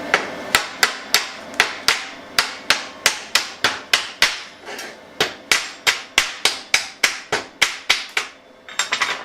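Hammer blows knock slag off the back of a freshly plasma-cut steel piece: about two dozen sharp metallic strikes in a steady, fast rhythm, close and loud, with no talking.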